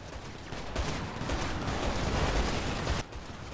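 Gunfire in a GTA roleplay game during a police-versus-gang shootout, a dense, loud burst of rapid shots running steadily for about three seconds before cutting off.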